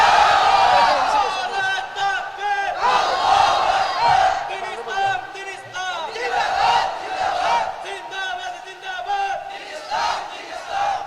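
A large crowd at an Islamic waz gathering shouts the takbir in rhythmic, repeated call-and-response waves, loud and close, rising and falling with each chant.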